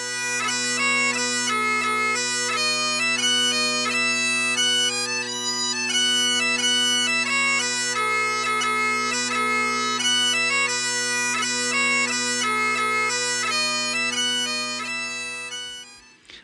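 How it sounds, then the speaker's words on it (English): Scottish bagpipes: a steady drone underpins a bright, reedy melody played continuously and loudly, with quick ornamented notes and no pauses. "And then we had the bagpipes up in Scotland."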